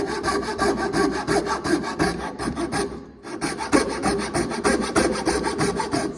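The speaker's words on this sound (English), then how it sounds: "this saw is different to the tenon saw in that it cuts on the back stroke" Hand saw rasping through soft pine in steady back-and-forth strokes, close and loud, with a brief pause near the middle before the rhythmic cutting resumes.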